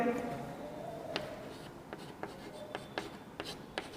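Chalk or marker writing on a board during a chemistry lesson, heard as a series of short, distinct scratchy strokes spaced irregularly, close and clear, after a voice trails off at the start.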